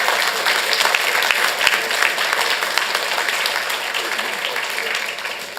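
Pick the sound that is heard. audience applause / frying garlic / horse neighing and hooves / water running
audience applause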